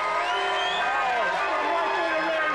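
A TV game-show studio audience erupts in cheers, whoops and shouts, a loud, continuous crowd roar filling the whole moment.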